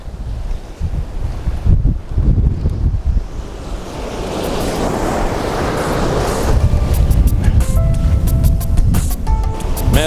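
Strong wind buffets the microphone at the seashore on a fishing outing, with loud gusting rumble and surf washing in steadily throughout, no talk.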